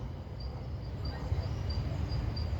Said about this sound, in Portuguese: Aí é a hora dos grilinhos começar a cantar.